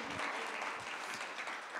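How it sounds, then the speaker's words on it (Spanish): A church congregation applauding at a sermon about King Jesus, a dense steady clapping from a crowd that fills the whole short moment. "Dale un aplauso al Rey Jesús"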